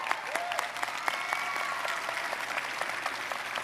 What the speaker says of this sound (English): Please give all of our award recipients another round of applause.